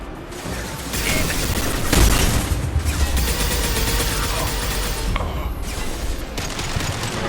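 Sustained shooting against Blue Suns mercenaries in the Mass Effect 2 video game rolls on as a loud, dense barrage of overlapping shots and impacts, with only faint talk underneath.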